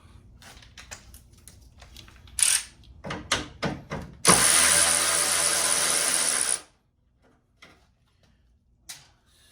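A 10mm bolt is removed from the headlight corner of a 1998-2000 Toyota Corolla, with a few sharp close clicks followed by a steady two-second burst of ratcheting or power-tool whirring, then quiet with a faint tap.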